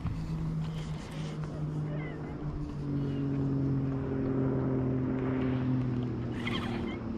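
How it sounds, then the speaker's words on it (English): A motorboat on Sam Rayburn Reservoir drones steadily at a moderate distance, a low hum that holds for several seconds over faint wind. "Wait for the boat to go by."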